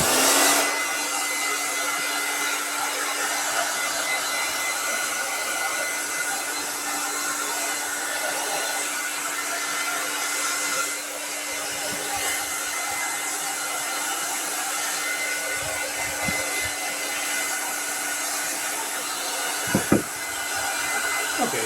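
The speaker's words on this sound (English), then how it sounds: "we're going to bring out the hairdryer now and dry this thing" A hair dryer blows on painted skull pieces with a loud, steady whirring roar and a constant high whine, running without pause, with a few faint bumps and knocks near the end.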